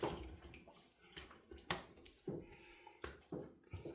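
Tap water runs and splashes as a face is rinsed after a wet shave with a boar bristle brush. It is a soft, continuous trickle with small splashes and bumps, close by, with no voices.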